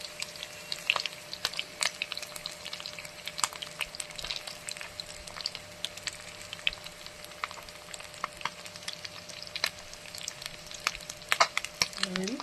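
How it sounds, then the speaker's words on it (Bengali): Fish fries in a pan with a quiet, continuous sizzle broken by scattered crackles and pops, with occasional faint clinks of handling. "এই খোলাতে ভেজে নিচ্ছি, মাছগুলো উল্টে দিচ্ছি।"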